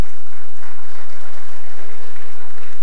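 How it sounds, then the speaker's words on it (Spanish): Applause from a conference audience, a broad continuous patter of many hands at close, loud level, steady from start to finish without a break. "Un aplauso, por favor."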